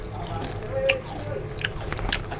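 A few crisp, crunchy bites of banana chips close to the mic, with a short cluster of crackling snaps against a steady low background hum.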